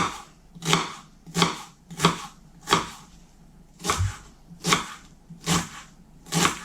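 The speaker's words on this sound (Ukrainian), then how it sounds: "Цибулю нарізаю кубиком." A knife chops an onion into cubes on a board in nine sharp, evenly spaced strokes, close by and clear, with no talking.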